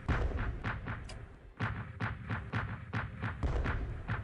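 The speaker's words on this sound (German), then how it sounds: "Sehr gute Artillerie, sehr, sehr schön." Artillery fire in the WW1 strategy game Strategic Command, a rapid, steady series of loud booming shots and thuds, one after another throughout.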